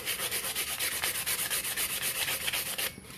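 Rhythmic back-and-forth sanding strokes scratch against a cured epoxy cup, steady and close, about a dozen quick rasping passes before stopping.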